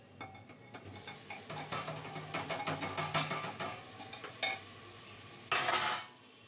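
A spatula stirs food in a frying pan as it fries to golden brown, with repeated scraping clinks and a faint sizzle, followed by a louder short burst of sizzling near the end.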